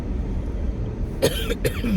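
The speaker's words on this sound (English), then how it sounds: "I was already having a little cough." Two short, harsh coughs close to the microphone, one after the other, over a low background hum.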